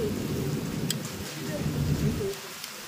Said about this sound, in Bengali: মানে মুষলধারে বৃষ্টি হচ্ছে, এত বৃষ্টি হচ্ছে কি বলবো